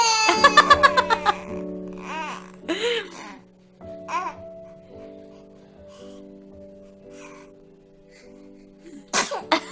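A baby sneezes amid babbling and soft giggly sounds, with short bursts scattered through a quiet room and an adult voice talking in between.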